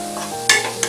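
A spoon scrapes briefly through veg fried rice with red chili sauce in a hot pan, close and fairly loud, two quick stirring strokes over a light steady sizzle.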